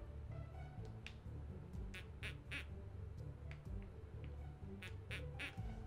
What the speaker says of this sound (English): Okay, so we know it's the duck.